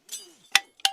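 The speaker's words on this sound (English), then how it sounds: "The sound of a soldier unclipping from their first mountain abseil" A British Army soldier unclipping a carabiner after a first mountain abseil: two crisp, close metallic clicks spaced apart, with faint rustle in between.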